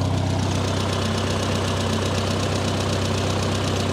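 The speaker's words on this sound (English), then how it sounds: "good running machine. I don't hear any major noises. Maybe a little bit of a lifter noise" A 1950 Farmall Cub tractor engine runs steadily at idle close by, a constant loud rumble with a faint ticking from the lifters and no voices.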